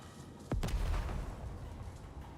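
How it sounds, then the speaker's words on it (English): A grenade explodes in Necromunda: Underhive Wars, a single sharp, loud blast followed by a rumbling low boom that lingers and slowly decays, with no voices. "I'm going to throw another grenade down here."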